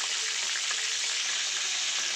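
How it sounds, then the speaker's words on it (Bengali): Monkfish (lote fish) pieces frying in oil over a lowered flame, a dense, even hiss of sizzling close up, no voices. "এগুলোকে আমি ফ্রাই করে তুলে তোমাদেরকে দেখাচ্ছি।"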